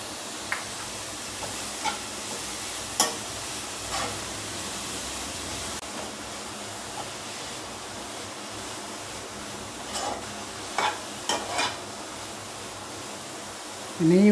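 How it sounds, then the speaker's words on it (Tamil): Grated carrot sautés in ghee in a pan while a utensil stirs it, giving a soft, steady sizzle with faint scraping taps and a louder clatter near the end. "இப்போ இந்த ஒரு கப்பு கேரட்டு துருவி வச்சு இதில் போட்டு வதக்கலாம்"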